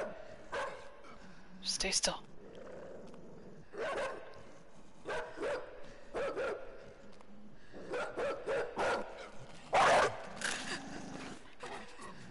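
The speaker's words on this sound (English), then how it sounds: "Oh, there's a dog." A dog in the dark platform game Inside barks in several sharp bursts at intervals, loud and close, while a player speaks briefly over the game sounds.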